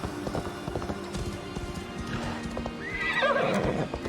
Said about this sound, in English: There's a few horses around.